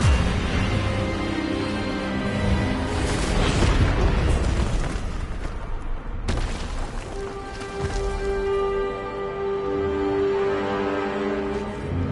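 Hogwarts Legacy duel with the Expelliarmus spell: a burst of booming, crackling magical impact that swells and fades, then a second sharp hit, with sustained tonal music ringing underneath.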